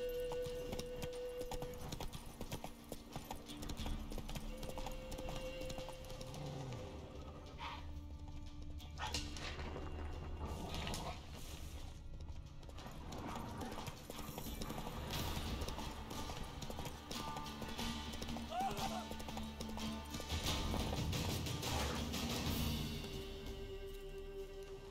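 A horse gallops in The Witcher 3: Wild Hunt, its rhythmic hoofbeats running continuously and loudly alongside game ambience, with a brief whinny partway through.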